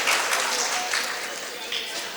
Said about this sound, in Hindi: जोरदार तालियों से इस्तकबाल कीजिए अपने मकामी शायर का